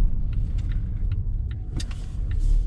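A 2021 Volvo XC90 Recharge plug-in hybrid on 21-inch alloy rims rolls over a potholed road, giving a steady low cabin rumble with scattered thumps and faint rattles, and no talking.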